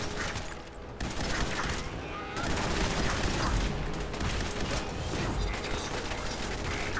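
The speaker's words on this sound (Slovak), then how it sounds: "on robí výbuch! On robí výbuch, uvidíte mi z cesty!" An enemy robot explodes in the video game Fallout 4 amid continuous loud gunfire and chaotic crackling blasts that fill the whole stretch without letting up.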